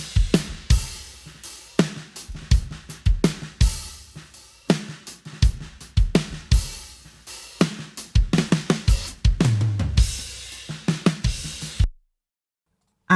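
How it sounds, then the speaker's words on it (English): A recorded drum kit plays through a song verse, with punchy kick and snare hits in a steady groove and sparse cymbals, loud and close, ending abruptly in silence. "let's remind ourselves what the drums sound like"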